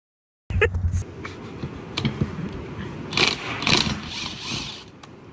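A ratchet wrench with a swivel socket works on a dirty three-wheeler during a build, giving close, loud clicking and mechanical clatter in uneven bursts, with a couple of sharper rattling peaks partway through.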